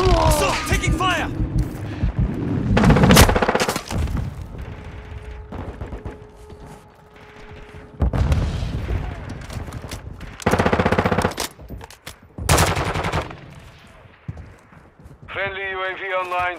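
Rapid gunfire in Call of Duty: Modern Warfare II comes in several loud bursts spread across the clip. Radio-style game voice lines and announcer talk are heard between them.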